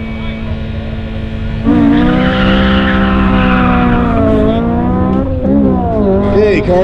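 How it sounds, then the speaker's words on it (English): A race car finishes an autocross run at a Pro Solo event in Wilmington, with a loud, steady, harmonic engine drone that swells sharply after a quieter start and holds close and strong to the end. "Car's just finishing."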